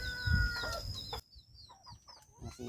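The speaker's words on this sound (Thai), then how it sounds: "ไล่ไก่ไปก่อน" Farm chickens cluck close by in a busy burst. A rooster crows in the background, and a few quieter clucks and chirps follow after a sudden drop in level.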